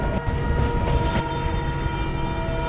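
Indian train simulator game audio of a train running in, with a steady low rolling rumble of wheels and a brief high metallic squeal midway, moderately loud with no talk.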